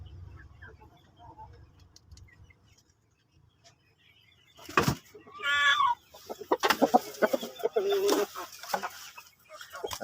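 Shamo chickens clucking and squawking in short bursts, fairly close, after a quiet stretch with faint low background noise; a few calls overlap.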